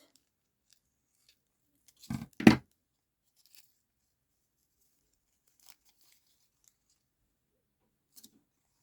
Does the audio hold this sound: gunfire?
no